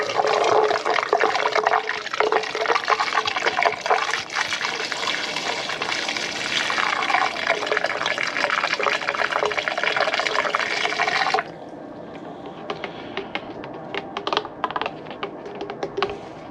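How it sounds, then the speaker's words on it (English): Coolant pours through a funnel into the cooling system of a GM Ecotec engine, a loud continuous gurgling splash for about eleven seconds, then dropping to quieter trickles and drips. "using your funnel, we're going to fill this system all the way up"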